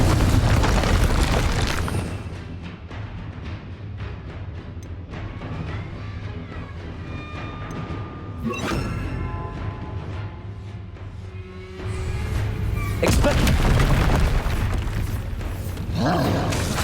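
Fire and blasting spell explosions, Incendio and Confringo, in the wizarding video game Hogwarts Legacy: repeated booming bursts and whooshing roars, loud at the start, a quieter stretch with ringing magical tones, then heavy blasts again.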